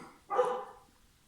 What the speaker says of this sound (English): I can't scream and tell her to stop barking.